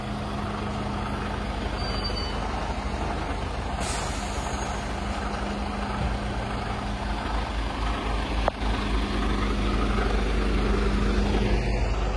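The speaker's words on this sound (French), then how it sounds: "Voilà le camion qui vient juste d'arriver là" A car transporter truck carrying cars from Germany pulls into a yard, its engine rumbling steadily and close with a brief hiss of air brakes partway through.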